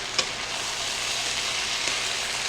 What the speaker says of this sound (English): I'm going to keep stirring this up